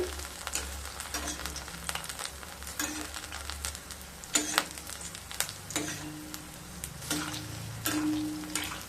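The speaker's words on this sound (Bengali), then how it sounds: "ওপর থেকে গরম তেল দিয়ে দিচ্ছি" Batter-coated hinche (water spinach) leaf pakoras frying in hot oil as more oil is ladled over them, a close crackling sizzle broken by sharp spatters and clinks of the utensil.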